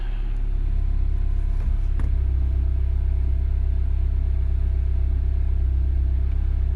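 A car engine idling just after starting, a steady low rumble held close and even throughout, with a brief mechanical knock near the two-second mark and no talk over it.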